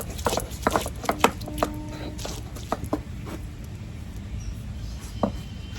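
Garlic being crushed for cooking red and onion greens, a series of quiet, irregular knocks and taps on a hard surface, some sharper hits among softer patter, fairly close.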